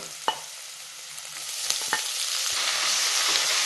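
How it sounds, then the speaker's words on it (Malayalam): Drumstick leaves are sautéed with onion in hot oil, a continuous sizzle broken by a few sharp scraping clicks of stirring in the pan. "ഇത് 1 മിനിറ്റ് ഒന്ന് വഴറ്റിയെടുക്കണം."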